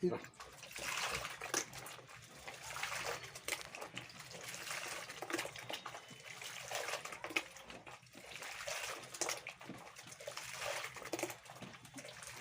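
Water runs and splashes over a ladies' wig as it is washed, a continuous trickling and gushing that swells and fades in waves, with a voice speaking throughout.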